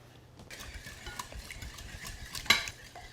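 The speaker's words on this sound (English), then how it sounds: "Give it another whisk." A whisk stirs fresh orange juice into a sweet potato dessert mixture in a bowl, making quiet, soft rhythmic scraping and tapping with one sharper clink near the end, no voices.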